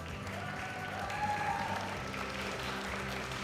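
Crowd at a junior powerlifting championship applauding the medalists, an even wash of clapping from a moderate distance, steady throughout with no voices over it.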